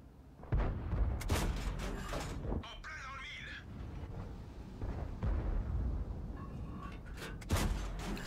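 Tank cannon shots with high-explosive rounds in World of Tanks, several heavy booming blasts with rumbling decay spread across the clip, loud over battle ambience.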